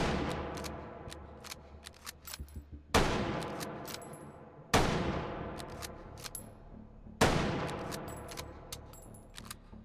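Four heavy, booming gunshots roughly two seconds apart, each with a long decaying tail, from a firearm loaded with armor-piercing incendiary rounds in the VR shooter game Hot Dogs, Horseshoes & Hand Grenades, with small clicks between shots.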